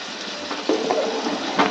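Liquid poured into a pot of nearly cooked khichuri, a steady splashing gush that swells in short surges, close and fairly loud with no talk.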